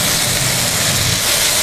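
Flour and mushrooms sauté in a pan for a chicken mushroom soup, giving a loud, steady, close hiss of frying that runs unbroken with no voices.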